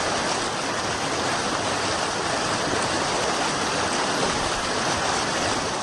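River water rushes without a break during a crossing near a remote hamlet in Maros, South Sulawesi, a loud, close, steady hiss with no pauses.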